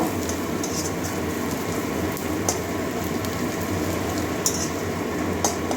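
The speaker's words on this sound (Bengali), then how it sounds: "একটুখানি জিরা গুঁড়ো দিয়ে দিচ্ছি আর একটু ধনে গুঁড়ো দিচ্ছি এটা তেলের সঙ্গে পেঁয়াজ রসুনের সঙ্গে ভেজে নেব" Cumin and coriander powder frying in oil with onion and garlic, a steady soft sizzle with occasional faint clicks of a utensil throughout.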